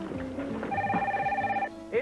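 A telephone rings in a mid-1990s Bell Atlantic caller ID TV commercial: a steady electronic ring tone holds for about a second amid background music and voices, with a short rising chirp at the end.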